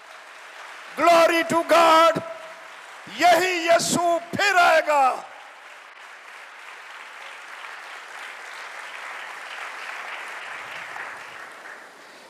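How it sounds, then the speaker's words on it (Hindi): Congregation at a Christian church service applauding loudly for Jesus, steady clapping and cheering swelling under a preacher's amplified voice, then carrying on alone for several seconds. "इस यीशु के लिए जोरदार तालियां।"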